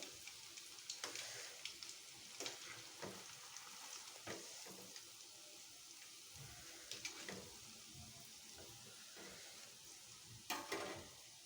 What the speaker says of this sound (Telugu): స్లో పెట్టుకొని స్లో ఫ్లేమ్లో వేయించుకుంటే లోపల వరకు క్రిస్ బాగా వేగుతాయి